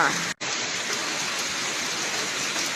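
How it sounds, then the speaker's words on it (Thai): Steady, dense rain pours down with a constant hiss, broken only by a brief cut near the start, no voices over it. "ฝนตกงามจ้าคุณ"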